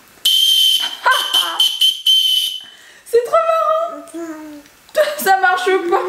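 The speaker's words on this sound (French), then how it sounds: "C'est une sucette rouge dans laquelle tu sais siffler, c'est un sifflet." A child blows a red lollipop candy whistle in several short shrill toots, loud and close, with high-pitched children's voices talking and squealing between the blasts.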